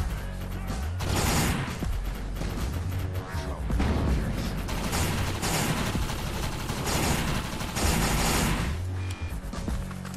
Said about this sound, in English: Are they shooting at him already?